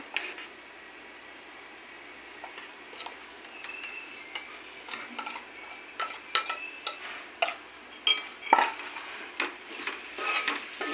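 Onions and masala for fish curry are stirred in a pan, a spoon scraping and clinking against the metal in irregular taps over a quiet background sizzle, growing busier toward the end.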